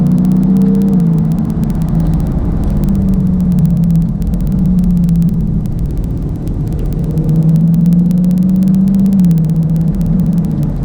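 A 2016 Dodge Charger Scat Pack V8 pulls hard at part throttle, a deep loud engine drone rising and falling in pitch as revs climb, dip and climb again, heard close from inside the car.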